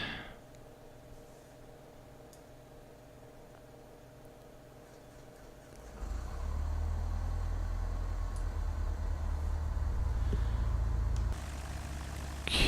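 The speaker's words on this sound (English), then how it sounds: "Engine's running. Nice and smooth." A light aircraft engine in Microsoft Flight Simulator X starts after a stretch of quiet cockpit hum, then settles into a loud, steady low drone that holds for several seconds before easing slightly.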